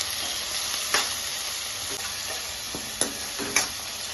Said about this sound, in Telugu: ఇవన్నీ వేసేసుకున్న తర్వాత ఒకసారి కలిపేసుకోవాలి.